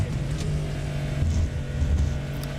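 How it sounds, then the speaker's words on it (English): A Cadillac hypercar with an 8-cylinder engine rumbles deep and steady in a racing video game at Circuit de la Sarthe, a low throbbing drone with its pitch shifting a little, heard alone. "listening to the deep rumble of the Cadillac"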